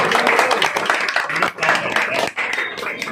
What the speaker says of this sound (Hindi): चलो ऊपर ताली बजाओ, ताली